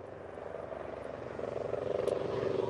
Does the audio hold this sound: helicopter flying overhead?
yes